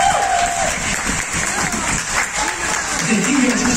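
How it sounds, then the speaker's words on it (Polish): Audience applause and cheering at an outdoor family festival dog show in a Gdańsk arena, a loud, steady wash of crowd clapping with voices and cheers mixed in. "Wielkie brawa dla niej."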